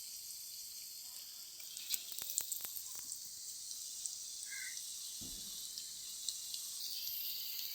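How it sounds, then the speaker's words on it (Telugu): Chili fritters (mirchi bajji) cooking in hot oil over a low flame, giving a steady soft sizzle throughout with a few sharper crackles and light clinks, fairly faint and without any talk. "ఇక బజ్జీలు వేసాను, ఉడుకుతున్నవి."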